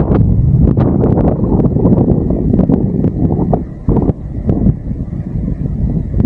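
Heavy headwind buffeting a microphone during a bike ride, a constant loud roar with gusty thumps and crackles throughout.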